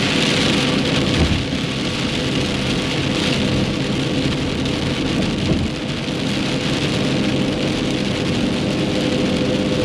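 Heavy rain drums steadily and loudly on a car while driving, a dense continuous roar with a low rumble underneath, no voices.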